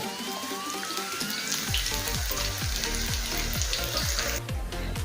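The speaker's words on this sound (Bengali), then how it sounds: "ঠিক একইভাবে উল্টো অপর পিঠটাও ভেজে নেব" Pumpkin slices frying in hot oil in a frying pan, a steady close sizzle with repeated crackling pops and spatters running throughout, with no talk.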